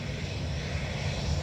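Pegasus airliner taking off at Dublin Airport, a faint steady engine roar heard from a distance, brief and unbroken.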